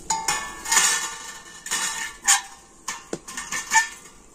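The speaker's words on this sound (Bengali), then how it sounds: "আর এখন আমি স্ট্যান্ডের উপর একটা স্টিলের থালা নিয়ে বসিয়ে" Steel plate set down on a metal stand over hot water for making yogurt, producing several sharp metallic clinks and scrapes at close range, scattered irregularly with no talk.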